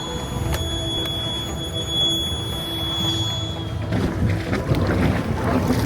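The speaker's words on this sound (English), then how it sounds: "I think it's time to start up the engines and then recheck everything" Boat engines start up and settle into a low rumble beneath wind buffeting the microphone, with a faint steady whine running through it.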